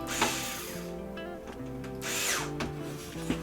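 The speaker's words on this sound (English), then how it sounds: "I'm just gonna take this and put these screws back in the holes so I won't lose them" A power drill or screwdriver drives screws back into the keypad assembly of an RCA LED50B45RQ television, with two or three short whirring bursts close by and no talking.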